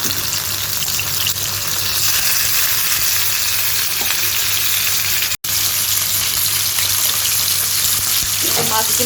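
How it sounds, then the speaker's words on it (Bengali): Pieces of rohu fish fry in hot oil, a loud, close, continuous bubbling sizzle that runs steadily throughout, with a brief cut and a few utensil knocks near the end. "মাছগুলো দিয়ে দিলাম আর আমি একটু মাছগুলোকে ভেজে নেব, ভালো করেই ভেজে নেব একটু"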